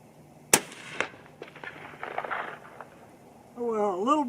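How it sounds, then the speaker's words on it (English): A single sharp 25-06 Remington rifle shot firing a 117gr Sierra GameKing bullet over a standard primer cracks out near the start, followed by faint shuffling and a brief rising electronic tone near the end. "Last shot with a standard primer."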